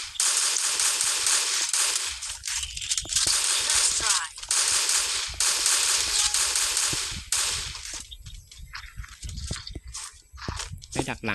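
Gunfire in a video game rattles in dense, loud automatic bursts, then breaks into sparser single shots, with someone talking over the action.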